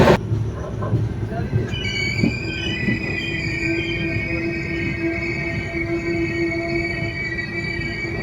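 Train running on the Kolkata to Darjeeling line, a steady loud rumble of wheels on track with high, sustained wheel squeal throughout, heard from inside the carriage.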